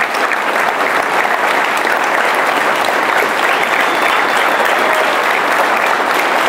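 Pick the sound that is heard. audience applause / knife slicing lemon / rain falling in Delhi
audience applause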